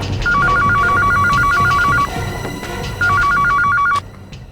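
An electronic telephone ringtone trills in two bursts of rapid warbling beeps separated by a short pause, loud and close over a busy room background with no talk.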